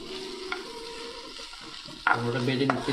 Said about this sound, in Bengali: আমরা বেজে নিচ্ছি, দেখতে পাচ্ছেন। আমরা এটা গ্রিন করে নেব, তার আগে আমরা একটা ফ্রাই করে নিচ্ছি।